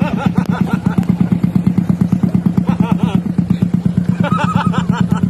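Loud motorcycle engines running up close on a rough trail road, including a Yamaha YTX, with a steady rapid thumping rhythm throughout and no talk.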